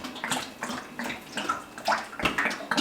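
Cooking oil is poured into a pot for frying pork chops, giving irregular gurgling, splashing glugs at close range, with no speech over it.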